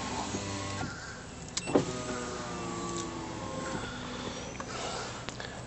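Electric power window motor in a custom-converted Honda Odyssey whirring steadily close by for several seconds, with a couple of brief clicks and thumps, no talking.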